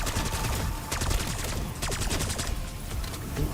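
Continuous, dense automatic gunfire in Black Ops 6 Zombies on the Liberty Falls map, rapid crackling shots layered thickly and loudly throughout with no pauses.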